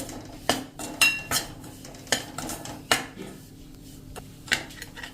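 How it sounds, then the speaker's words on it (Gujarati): A utensil scrapes and clinks against a pan as moong flour is stirred continuously while roasting in ghee, giving irregular close metallic taps and scrapes with quiet gaps between them. "હવે આ સ્ટેજે આપણે કન્ટિન્યુ ચલાવતા જ શેક્યો છે"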